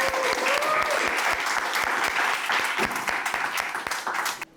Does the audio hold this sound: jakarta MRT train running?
no